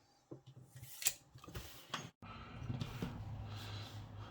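Large 1/2-inch drive ratchet from a KATSU 420343 socket set being clicked and turned up close, a series of sharp pawl clicks and mechanical rattles in uneven bursts, fairly quiet with no speech.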